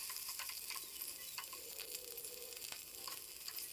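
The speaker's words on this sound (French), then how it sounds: "nous allons sauter la viande, c'est 400 g de viande hachée" Four hundred grams of minced meat sautéing in two tablespoons of hot oil, a soft continuous sizzle with faint crackles and occasional stirring clicks, fairly quiet throughout.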